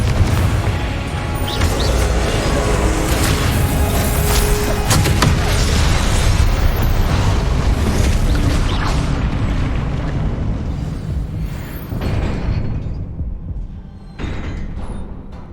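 A Confringo spell explosion in the video game Hogwarts Legacy, a sustained roaring boom with dense low rumble and crackling bursts that stays loud for many seconds before thinning out and fading near the end.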